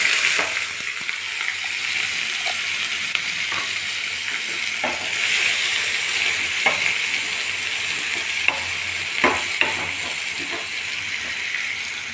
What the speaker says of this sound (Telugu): కాస్త వేగాక సన్నగా తరుక్కున్న ఉల్లిపాయలండి.